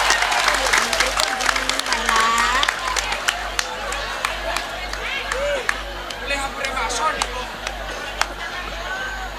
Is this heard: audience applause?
yes